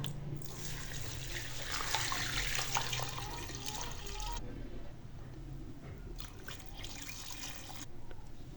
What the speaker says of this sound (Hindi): अब 2 लीटर पानी शामिल करेंगे।